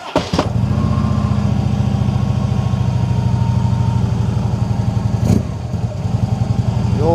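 A motorcycle engine idles and runs steadily at close range, a loud continuous low throb with a brief sharper burst near the middle, no talking over it.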